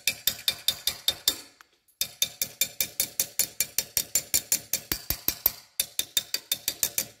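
Rapid metallic knocking hammers through a welded water pipe under test, a steady train of sharp, loud impacts with a brief gap near the start and another near the end.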